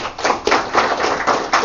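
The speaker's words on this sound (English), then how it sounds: "So give a round of applause." Brief scattered clapping from a small audience at a university ACM club general meeting, a handful of close, uneven hand claps over under two seconds.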